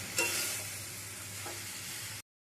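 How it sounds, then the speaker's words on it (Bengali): Yardlong beans and potato stir-fry with poppy seed paste in a hot pan, a close dense sizzle with a stirring scrape near the start and another midway, cutting off abruptly just before the end. "পোস্তর সাথে ভালো করে এটা একটু কষিয়ে নিতে হবে"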